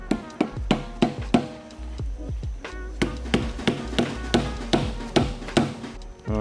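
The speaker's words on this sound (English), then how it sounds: "We just have to rubber mallet all the way around little by little" A rubber mallet taps repeatedly around the housing of a Mazda FD RX-7 13B rotary engine during teardown, sharp close knocks in a steady uneven series of about a dozen blows with short ringing decays.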